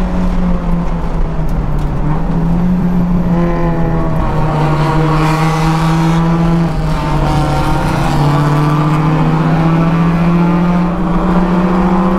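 A Spec Miata race car accelerating hard at the race start at Daytona, heard from inside the cockpit: a loud, close engine drone rising and falling through gear changes, with no voices.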